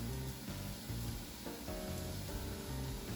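A chicken quesadilla frying in hot oil, a continuous close sizzle with slight swells as it settles in the pan, no voices.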